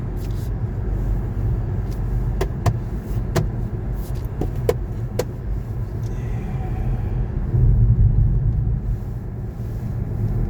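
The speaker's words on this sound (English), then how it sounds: "simply tramping the throttle from a standing start" A 2.5-litre mild hybrid European-spec Mazda CX-5 accelerates hard from a standstill, a steady low engine and road rumble heard from inside the cabin, with a few sharp clicks and a swell in rumble toward the end.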